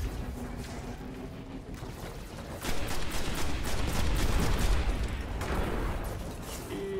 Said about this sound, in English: the ship is shooting at me